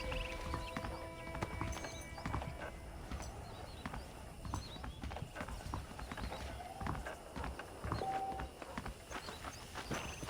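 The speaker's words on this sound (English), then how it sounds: "The horses are saddled up over here." Horses clip-clopping at a walking pace in the Red Dead Redemption video game, with a steady hoof rhythm, an occasional whinny and faint birds in the background.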